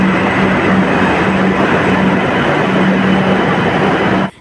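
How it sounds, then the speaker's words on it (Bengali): A metro train rolling into a station, a steady loud rumble of wheels and motor with a faint whine running throughout, continuous and close, then cutting off abruptly at the end. "ওই দিক থেকেও একটা মেট্রো চলে আসছে"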